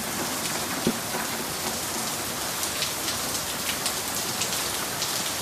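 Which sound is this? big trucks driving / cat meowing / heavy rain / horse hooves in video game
heavy rain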